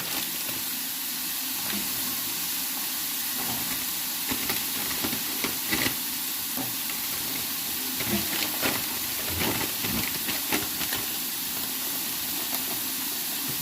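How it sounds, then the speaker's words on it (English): Water bubbles and hisses steadily in a pot of boiling pasta at close range, with occasional clinks and light kitchen clatter over the constant simmer. "The boiling water goes our pasta."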